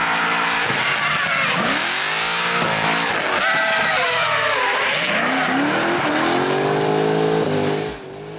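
A BMW E30 with a Corvette-based LS7 V8 and an E39 M5 rear axle roars loudly while drifting, its engine note rising and falling through gear changes as tires squeal continuously close by.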